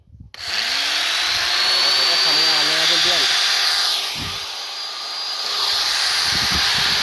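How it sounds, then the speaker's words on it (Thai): A roughly 500-watt angle grinder powered directly from four solar panels spins up with a rising whine, then holds a loud, steady high-pitched drone that dips briefly before recovering, with a voice heard over it. "ลูกหมูตัวนี้ก็ประมาณห้าร้อยวัตต์นะ เพื่อน ๆ มาดูเลยครับว่าผมจะเสียบปลั๊ก"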